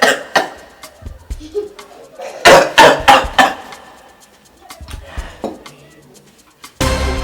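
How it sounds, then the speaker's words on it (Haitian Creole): Several sharp coughs come in a quick cluster near the middle, with scattered smaller bursts and indoor voices around them. A loud noise cuts in at the very end. "Qui l'a toussé?"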